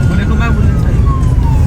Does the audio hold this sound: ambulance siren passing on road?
yes